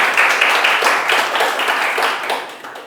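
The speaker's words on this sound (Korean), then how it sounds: "큰 박수 다시 한번 부탁드리겠습니다" Sustained audience applause at a youth policy proposal event, a dense even patter of many hands clapping fairly loudly for about three seconds, fading slightly at the end with no talking.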